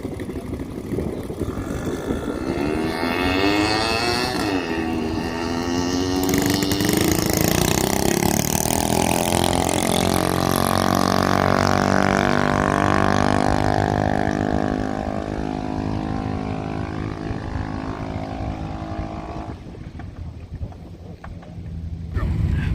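A small mini bike engine on an NR Racing 252 build roars loudly and close, revving up with rising and falling pitch sweeps, then settles into a lower steady drone before revving again near the end.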